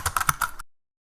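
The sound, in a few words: typing on a computer keyboard, pressing Enter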